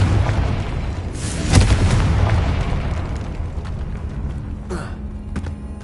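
A Confringo blast spell fires in the video game Hogwarts Legacy, a loud booming burst with a sharp crack near the start, followed by rumbling game noise and a second smaller pop late.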